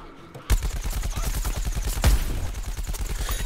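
Rapid gunfire in the Plants vs. Zombies Garden Warfare shooter game, a steady stream of repeated shots with one heavier blast in the middle, loud and continuous, no talking.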